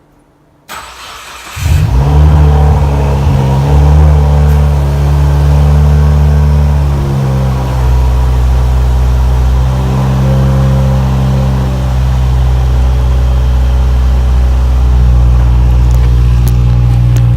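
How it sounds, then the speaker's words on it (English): A 2016 Subaru WRX running with no exhaust, open from the cat back, cranks and fires, then idles loud and raw with a few revs as a deep, continuous engine roar. "So I just started the car, as you saw, with no pipes on it, just from the cat's back, and wow, it is insanely loud."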